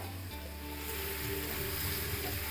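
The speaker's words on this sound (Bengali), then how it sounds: "এক বাটি সস ওটার মধ্যে দিয়ে দাও" Sauce poured into vegetables frying in a pan sets off a loud, steady sizzle, with a brief splash at the start and the crackle holding dense and close to the end.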